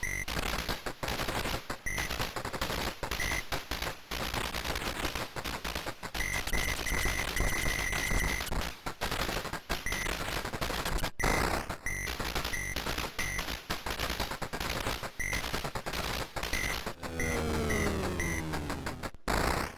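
Upgraded gunfire in a Capcom arcade shooter: dense, continuous rapid-fire electronic shots over busy game music and effects, with repeated bleeps and a sweeping whistle-like tone near the end.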